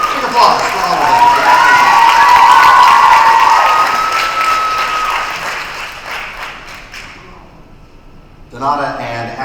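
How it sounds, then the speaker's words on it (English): Loud applause and cheering from a high school awards night crowd, with dense clapping and shouts peaking early and fading over several seconds, then a brief voice rises near the end. "Big applause for all of them."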